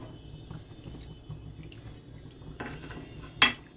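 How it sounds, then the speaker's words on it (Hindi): Raw mango and sugar are stirred in a pan for gudamba, making quiet intermittent scrapes and clinks of a utensil against the pan, with one sharper knock near the end. "शक्कर डालने के बाद हम इसको चलाते रहेंगे"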